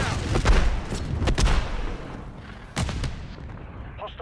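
A grenade going off in Call of Duty multiplayer: heavy booming blasts with gunfire, loud and close, dense through the first second and a half, then another sharp burst near three seconds.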